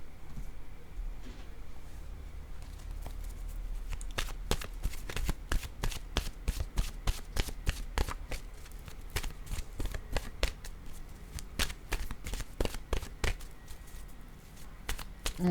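Oracle cards being shuffled by hand, a crisp run of sharp riffling snaps and taps that starts soft and grows denser and louder, close up with no voices.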